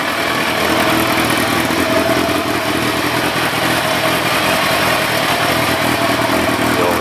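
A Kawasaki ZZR 1100 motorcycle, freshly restored with new timing work, runs steadily just after starting, its engine a loud, even, continuous rumble close by with no talk over it.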